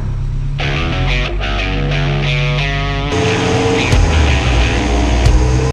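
Mazda Miata engine running on a dyno during horsepower testing of a power steering pump, a loud steady drone with strong low harmonics that climbs in pitch, then shifts to a rougher, busier roar partway through.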